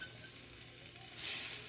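Quiet steady sizzle of a cheese quesadilla frying in a pan, faint and continuous with a slight swell near the end, no talking.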